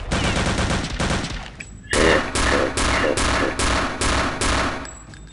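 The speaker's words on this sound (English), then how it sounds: "Shooting at this barrel and that barrel explodes." Rapid gunfire at barrels in Return to Castle Wolfenstein, a long run of loud shots, then a brief gap and a series of heavy bursts as a barrel blows, loud and close.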